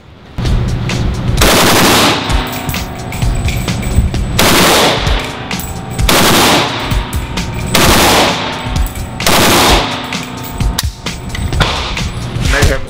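AK rifle firing on automatic at a range, several long bursts of rapid, loud gunfire with short pauses between strings, close and harsh, with no talking over it.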